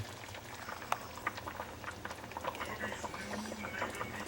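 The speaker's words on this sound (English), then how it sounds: "they're bubbling away and approaching figgy perfection" Soft, thick bubbling and popping of figs simmering in a pot, with irregular small plops over a low background hum.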